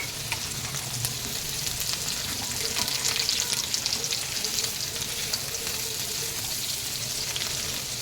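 Carrots and mixed vegetables fry in a little oil in a kadhai, producing a continuous bright sizzle with faint stirring scrapes that swells slightly midway and carries on without speech.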